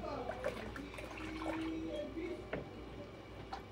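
Water poured into a batch of homemade calamansi and lemon dishwashing liquid, a soft splashing trickle at close range beneath quiet voices.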